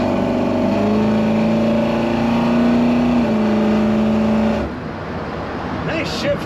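A 1967 Chevrolet C10 Stepside pickup accelerates while driving, its engine note rising steadily in a loud close drone, then it shifts and drops to a quieter, rougher rumble near the end.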